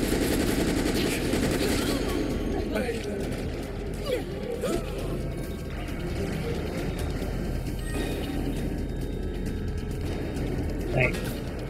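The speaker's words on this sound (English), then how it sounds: "They're shooting me!" Enemy gunfire aimed at the player in a video game, heard as a continuous rattle of automatic shots with scattered sharper cracks, moderately loud beneath a steady background din and some talking.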